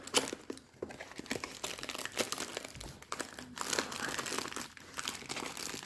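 A crinkly plastic package holding 14-count cross-stitch fabric is handled and opened up close, giving continuous rustling and crackling with bursts of sharper crinkles throughout and no speech.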